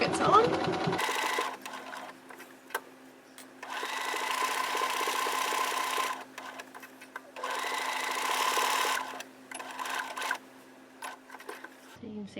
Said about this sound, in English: You just stitch the pockets on.